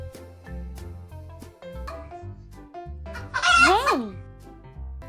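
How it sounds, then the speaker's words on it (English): A farm hen gives a short burst of clucking and squawking partway through, near and fairly loud over continuous background music. "Hen."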